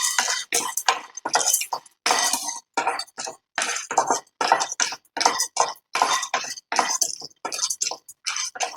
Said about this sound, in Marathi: आता इथे पिस्ता पंपकिन सीड्स आणि सनफ्लॉवर सीड्स हे मी एकत्र घालून व्यवस्थित भाजून घेत आहे